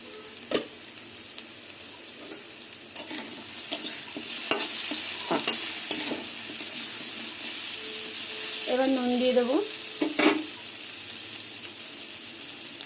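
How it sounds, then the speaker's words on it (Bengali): Pumpkin pieces frying in oil in a pan kept covered between stirs, with a steady sizzle and repeated clinks and scrapes of a utensil, plus a short squeaky rattle of the lid, nearby and without talking. "এভাবেই ঢেকে ঢেকে কুমড়োটা ভাজবো"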